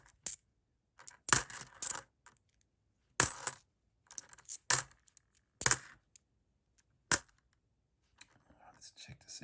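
Australian 20 cent coins clink and tap against each other in a series of sharp metallic bursts, some single and some clustered, with quiet gaps between handlings.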